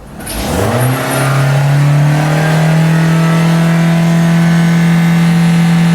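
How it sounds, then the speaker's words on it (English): A Toyota Corolla engine close by revs up quickly and holds at a steady, loud high-pitched drone for several seconds. "I'm gonna rev up the engine."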